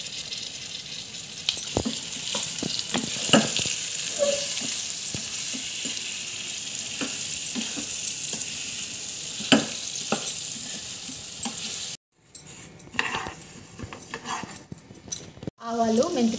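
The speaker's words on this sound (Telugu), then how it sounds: "మినిమం 100 గ్రామ్స్ అంత సాల్ట్ వేసుకొని కలుపుకుందాం" Green chilies for a gooseberry pickle being mixed with salt and turmeric, a continuous hissing sizzle punctuated by scattered clinks and scrapes of a spoon against the pan, with a brief break near the end.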